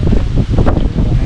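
Strong wind gusts buffet the microphone outdoors beside a charcoal-fired biryani pot, a loud rumbling roar with brief dips, no talk.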